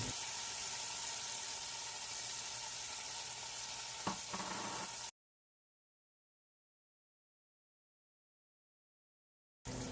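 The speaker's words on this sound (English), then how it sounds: "Now we're going to go ahead and add our minced garlic." Minced garlic and tomatoes fry in a pan with a steady close sizzle and a brief clink of a utensil, then sudden silence before the sizzle returns at the very end.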